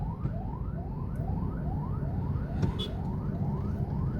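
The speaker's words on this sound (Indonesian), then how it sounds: "Itu ada ambulan" An ambulance siren wails in steady, repeating rising sweeps as it moves through a jammed traffic checkpoint in Malang, heard from a short distance over the constant low rumble of idling vehicles.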